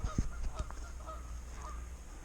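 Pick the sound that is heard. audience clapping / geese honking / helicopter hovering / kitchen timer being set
geese honking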